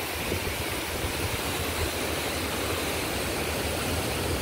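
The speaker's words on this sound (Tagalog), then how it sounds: "Lakas ng alon ng tubig." Strong river water rushes past a dam in a steady, dense roar heard from above, with no voices and no breaks.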